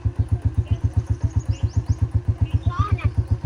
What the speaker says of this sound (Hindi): ये रक्शे के ऊपर मोटरसाइकिल लोड होकर जा रहा है।